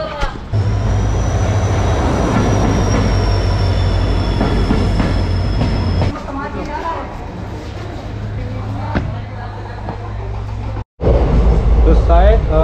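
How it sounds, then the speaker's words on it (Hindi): A train pulls into Bagdogra station with a loud, continuous rumble of wheels and carriages, a long high squeal partway through, and mixed crowd noise. It stays close and heavy throughout, with a brief drop near the end. "ट्रेन आने ही वाला है"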